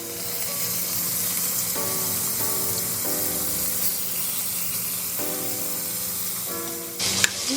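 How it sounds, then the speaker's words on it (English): Oxtail frying in a pan for browning, a steady loud sizzle and spray-like hiss running throughout, with a brief sharper burst near the end. "We fry the oxtail because you want to get a good browning color on the meat"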